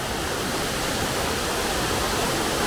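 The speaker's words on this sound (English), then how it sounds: "Alright, so we made it to the lower part of the waterfall." The lower part of Gibraltar Falls near Canberra roars as a dense, steady rush of falling water, loud and close, broadband and unbroken throughout.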